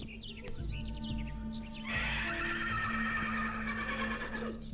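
A horse lets out a shaky, drawn-out whinny over a steady low hum, with faint scuffling and chirps in the background.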